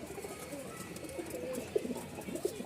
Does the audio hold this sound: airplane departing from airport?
no